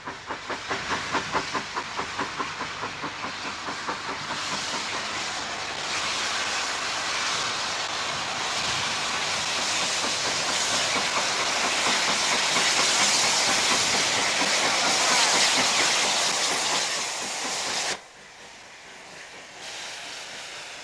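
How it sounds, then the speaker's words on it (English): A working steam locomotive train running close by, with steady loud chuffing and hissing steam over rhythmic rail clatter that continues for most of the stretch, then drops abruptly to a quieter hiss near the end. "Working steam."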